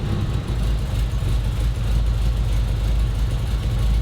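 A 1963 Mini Cooper with its 997 engine idling after 40 years unused, a steady low, close rumble with an even, slightly lumpy pulse and no voices.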